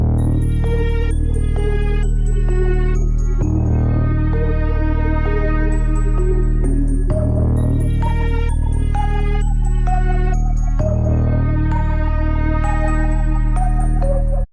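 A beat loop built in FL Studio, playing continuously and loud with a repeating four-bar pattern: heavy booming bass and kick underneath bright plucked melodic notes, with no voices.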